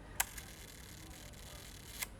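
A Kodak Retina folding film camera with a 50mm f3.5 Ektar lens fires its shutter at a one-second exposure: a crisp click to open, a quieter tick, then a second click to close about two seconds later, in a quiet room.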